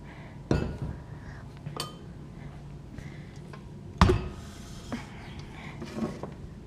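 A few metallic clinks and clatters, with two sharper knocks, as small greased metal mini loaf pans are set down and handled nearby.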